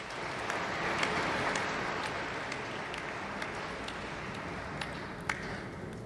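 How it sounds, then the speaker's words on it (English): Audience applause at a re:publica 2018 conference talk, a steady patter of many hands clapping at a moderate distance, quiet and even, with a few sharper claps standing out. "Applause for Kristina."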